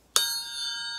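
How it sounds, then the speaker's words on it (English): A metal triangle is struck once, giving a bright attack followed by a sustained shimmering ring that holds steady to the end, close and alone. "the triangle"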